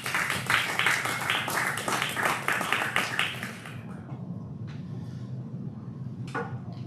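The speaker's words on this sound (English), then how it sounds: "So round of applause for leaders" A church congregation at a fourth-anniversary gathering applauds its leaders in a dense burst of clapping that lasts a few seconds, then tapers off into quiet room sound.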